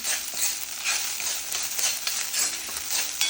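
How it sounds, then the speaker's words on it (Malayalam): Orange peel sizzles as it is sautéed in a pan for an orange juice chutney, a steady close frying hiss with small stirring scrapes throughout and no talk. "വേണമെന്നുള്ളവർക്ക് ഓറഞ്ച് തോല് ഒന്ന് വഴറ്റാട്ടോ അതിന്റെ കൂട്ടത്തിൽ തന്നെ"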